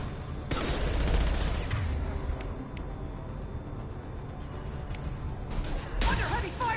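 Heavy video-game gunfire, dense bursts of rapid shots and impacts sustained throughout, loudest at the start and end, close and overwhelming.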